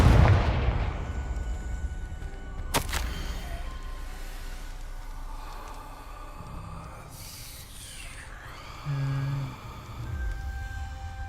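Confringo blasting spells explode in Hogwarts Legacy: a sharp blast cracks near the start, followed by booming, rumbling detonations and scattered bursts of magical impact over a low, continuous background.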